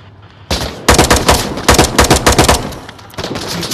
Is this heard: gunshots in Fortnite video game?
yes